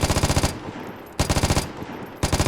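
Automatic gunfire from the video game Vigor rattles out in three loud, rapid bursts separated by short pauses, each burst a fast string of close, punchy shots.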